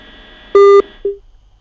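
A telephone line gives a short loud electronic beep after a call is hung up, followed by a fainter, shorter tone, alone against near silence.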